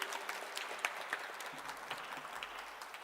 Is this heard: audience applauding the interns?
yes